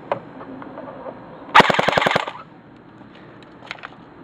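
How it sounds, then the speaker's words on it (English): A GSG 522 airsoft gun firing a single rapid burst of about a dozen evenly spaced, loud, close shots, with faint mechanical clicks before and after in a quiet setting. "now we're going to do the bursts and get the rounds per second"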